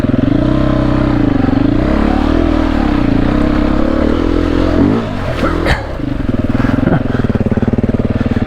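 Dirt bike engine revs hard through soft snow on a high-country trail, a loud, continuous buzzing roar that wavers with throttle, briefly drops off, then surges again with clattering knocks.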